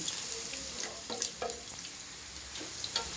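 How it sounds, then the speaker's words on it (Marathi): Garlic sizzles in hot oil in a wok with a steady hiss, broken by occasional scraping stirs and small pops close by. "कढईमध्ये तेल तापायला ठेवलेलं आहे त्याच्यामध्ये टाकला आहे लसूण"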